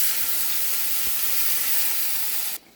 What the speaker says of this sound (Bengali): এই একটুখানি জল দিয়ে দিচ্ছি।